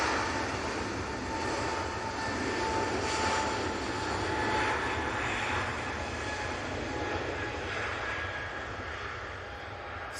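An SAS airliner arrives at Manchester Airport, its jet engines giving a steady, broad roar that holds for about ten seconds without speech.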